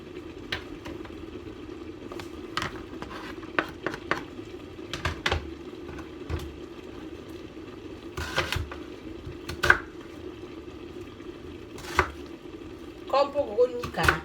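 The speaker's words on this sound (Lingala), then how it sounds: "Nakati matungulu na ngai" Onions are chopped on a board in a home kitchen with irregular knife taps and thuds, scattered at first and then in quicker clusters, under a steady low hum.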